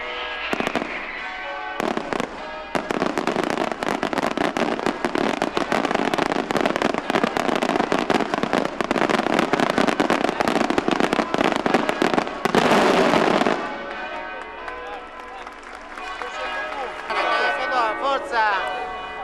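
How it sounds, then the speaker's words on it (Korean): A dense barrage of fireworks crackles and bangs continuously for several seconds over a town square during the Santa Lucia festival in Syracuse, Sicily, then thins out to scattered pops as voices carry on. "광장의 분위기가 심상치 않다고 느낀 순간 하늘에선 폭죽이 장렬하기 시작합니다"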